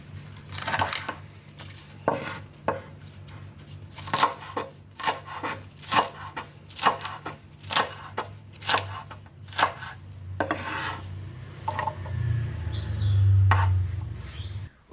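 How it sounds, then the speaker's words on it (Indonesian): Spring onion stalk being chopped into large pieces with a knife on a board, a steady series of crisp, close knocks spaced irregularly, with a low hum underneath and a louder rumble near the end. "Satu batang daun bawang dipotong-potong agak besar."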